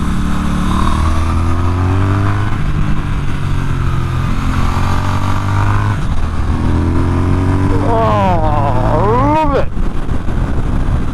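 A Triumph Speed Twin 1200 motorcycle is ridden with a steady engine drone throughout, rising and falling with throttle changes, while someone talks over it.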